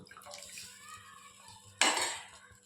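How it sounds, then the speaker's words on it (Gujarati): A spoon stirring a mixture in a cooking pot for a kadhi with stuffed chillies and peanuts, with soft scraping and a sharp metallic clatter near the end. "હવે આ મિશ્રણને હલાવી અને તેમાં"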